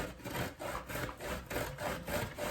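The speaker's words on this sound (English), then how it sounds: "So while you're grating, you're gonna have to be extra careful because you can easily cut yourself. So you just slowly grate." Food is rubbed slowly across the small holes of a hand grater while making Antiguan ducana, giving steady, rhythmic rasping strokes about twice a second, close and alone.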